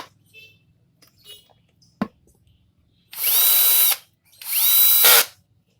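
Two loud bursts of a power drill or impact driver tightening parts on a Yamaha Aerox 155 scooter's CVT, each lasting about a second, following quieter handling clatter and a sharp knock.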